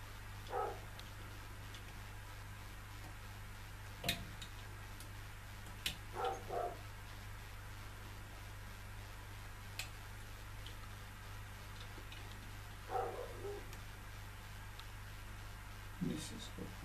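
A two-year-old Rottweiler barks somewhere off in the house, a few scattered single barks that are fairly faint over a steady electrical hum, with occasional sharp clicks.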